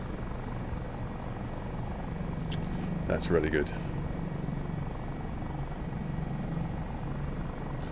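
A helicopter in a flight simulator flies over Jenny Lake in warm weather, giving a steady low rotor and engine drone throughout. A voice speaks briefly over it partway through.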